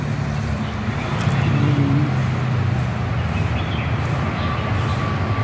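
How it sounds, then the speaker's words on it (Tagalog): Road traffic with cars and buses passing outdoors near trees, a steady broadband roar of engines and tires that swells slightly as vehicles go by, continuous throughout with no talk. "Tapos tunog ng mga sasakyan."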